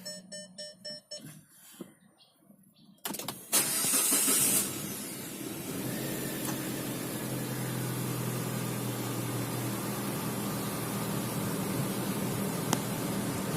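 A 2013 Proton Suprima S sounds a few dashboard chimes, then the engine cranks and catches with a burst of noise before settling into a steady, quiet idle hum.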